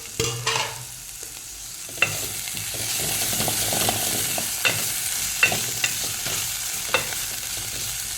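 A bitter gourd stir-fry is stirred in a frying pan. Several distinct spatula scrapes and knocks stand out over a soft, steady sizzle, close by and with no voice.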